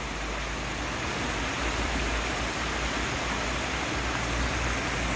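Dense, steady roar of falling water at Düden Waterfalls in Antalya, a broad unbroken rush heard close and loud throughout.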